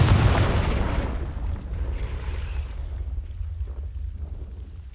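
Confringo blasting spell from Hogwarts Legacy, a loud booming explosion at the start that rumbles and fades out over several seconds.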